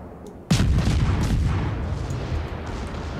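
A Wickes-class destroyer's guns fire in World of Warships, one sharp loud boom followed by a long rolling, fading rumble.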